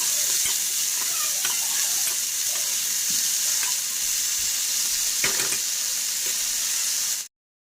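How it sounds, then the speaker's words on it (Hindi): A vegetable sabzi mixed with greens fries in a pan with a dense, continuous close-up sizzle and occasional light stirring knocks, cutting off abruptly at the end. "आप देख सकते हो अब ये सब्ज़ी अच्छे से भुन गई है"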